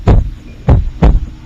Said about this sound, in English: I was hearing my heartbeats.